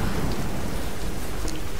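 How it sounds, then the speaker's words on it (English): Steady, dense rain hisses in the video game Tomb Raider Definitive Edition, a loud continuous wash of falling water with low rumbling beneath and no voices. "it's raining."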